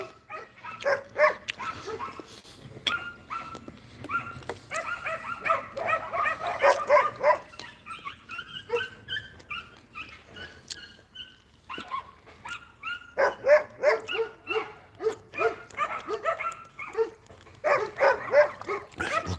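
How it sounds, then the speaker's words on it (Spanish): Several dogs bark excitedly and persistently in rough bursts. Yips and whimpering mix in with a lull midway, heard outdoors at moderate distance with no talk. "¿Por qué ladrarán tanto los perros?"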